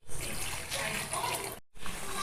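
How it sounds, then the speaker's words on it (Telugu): Water from a mixer jar pours into a pan of shahi paneer masala curry, a close, splashy rushing stream that runs steadily, breaks off briefly, then resumes. "ఇదే వాటర్ పోసుకొని మిక్స్ చేసి అందులో వేసుకోవాలి"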